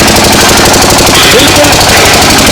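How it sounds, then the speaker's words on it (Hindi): A factory generator running at full load at 1500 RPM gives a loud, close, rapid pounding engine clatter that stays steady throughout. "पूरे लोड पे जनरेटर काम कर रहा है। आप देख सकते हैं जनरेटर हिल भी नहीं रहा है और 1500 आरपीएम पे जनरेटर चल रहा है।"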